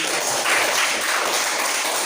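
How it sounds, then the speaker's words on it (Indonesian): Classroom of students applauding a classmate's correct answer: a dense patter of clapping hands, moderately loud and continuous for about two seconds. "mari kita berikan tepuk tangan kepada teman yang sudah"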